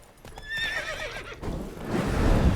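A horse whinnies and snorts in The Witcher 3, its high wavering neigh giving way to shuffling hooves and rustle close by, with no talk over it.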